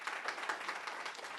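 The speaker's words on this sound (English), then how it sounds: "applause broke out when lawmakers defined their views on the abortion question" Applause fills a legislative committee hearing on a fetal heartbeat abortion bill in Tennessee, with steady, moderately loud clapping from a crowd for about a second and a half, no voices over it.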